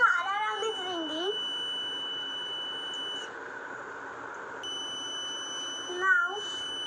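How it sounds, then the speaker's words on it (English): A homemade water level alarm, triggered when copper plates touch the water in a filling tank, rings with a steady, high electronic tone that cuts out briefly and resumes, while a voice speaks over the start and near the end. "Now when the copper plates touch the water, the alarm rings. You can see the alarm is ringing."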